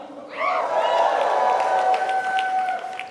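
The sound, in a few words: audience applause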